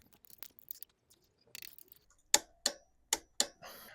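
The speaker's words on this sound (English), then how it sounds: "Now let's torque these fasteners up." A torque wrench with a 14 mm socket, set to 45 newton-metres, tightens the brake fasteners on a Royal Enfield Himalayan 450. Four sharp, close metallic clicks land about a third of a second apart after some quieter handling noises.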